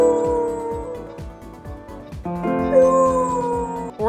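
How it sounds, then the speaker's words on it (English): A dog howls in a long, wavering, song-like wail, rising and falling in pitch with short yips between phrases, loud and close throughout. "Elsewhere, a dog belts out his favorite tune."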